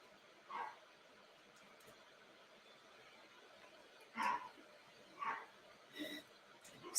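A dog indoors gives four or five separate barks, sharp and moderately close, spaced a second or more apart, one isolated yap first and then a quicker cluster, over a quiet room background.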